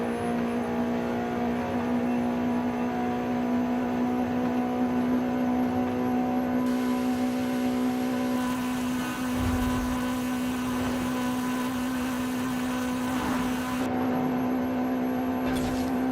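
A Honda car in Forza Horizon 5 revs hard with a loud, steady engine and intake drone that carries through the whole stretch, its pitch shifting slightly midway with no voices over it.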